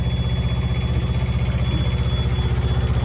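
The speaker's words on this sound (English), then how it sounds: "you'll hear the motor actually rev down a little bit" Boom lift motor on a CMC 75L machine running steadily with a pulsing mechanical throb, close and fairly loud, settling to a lower, even idle throughout.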